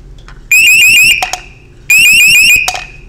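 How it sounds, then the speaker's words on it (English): A high water alarm on a boat bilge pump switch system sounds two loud, piercing bursts of rapidly sweeping electronic tones, each about half a second long and separated by a brief pause. "And now you have a high water alarm system, even if it's not wired into the boat."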